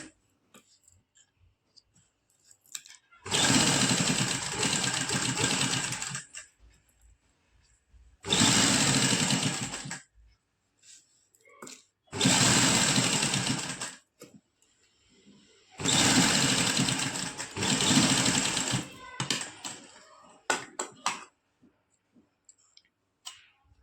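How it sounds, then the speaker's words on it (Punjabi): A sewing machine stitches lace onto the very edge of fabric in four separate bursts of close, steady motor whir and needle chatter, with quiet pauses and small clicks between runs. "ਆਪਾਂ ਕੱਪੜੇ ਦੇ ਬਿਲਕੁਲ ਕਿਨਾਰੇ ਤੇ ਸਲਾਈ ਲਗਾਉਣੀ ਆ"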